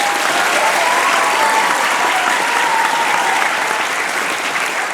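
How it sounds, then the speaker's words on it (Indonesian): Loud, sustained applause fills the room as an audience claps for Raudatul Firdaus at an Islamic boarding school gathering, dense and even throughout with no voices rising above it. "Tepuk tangan untuk Raudatul Firdaus."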